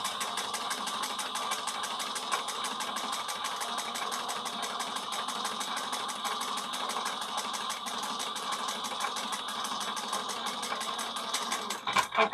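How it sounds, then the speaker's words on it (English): Sewing machine running steadily as it stitches a leather satchel, a rapid even mechanical chatter at moderate level throughout, ending with a few louder thumps. "I will start sewing 1/8 of an inch on the other side."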